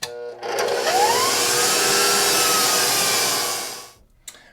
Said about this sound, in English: we're going to give this a whisk for about 2 minutes just to get those eggs whipped up nice and airy